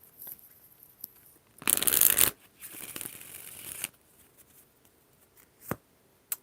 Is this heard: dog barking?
no